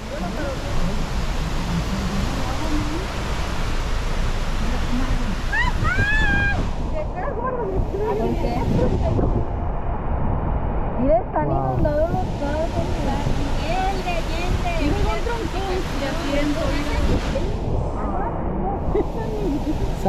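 Loud, steady rush of the flooded San Miguel River in Villa Purificación, Jalisco, after Hurricane Lidia, with wind buffeting the microphone and voices talking over it.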